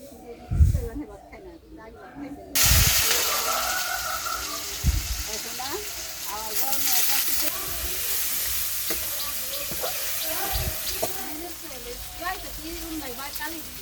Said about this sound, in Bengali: এখন হলো মা শাক ভাজি করতেছে